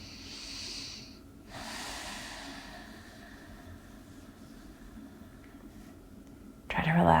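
Slow, deep breaths drawn during a yoga hip stretch, soft airy inhales and exhales close to the mic with quiet room tone, ending in a louder burst of noise.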